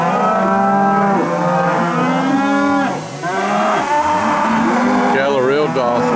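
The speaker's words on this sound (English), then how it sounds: "Cattle are real docile." Loud, drawn-out moos from cattle at an Alabama cattle sale, several overlapping bellows rising and falling close by, filling nearly the whole stretch with a brief dip midway.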